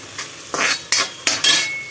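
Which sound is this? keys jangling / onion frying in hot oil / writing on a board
onion frying in hot oil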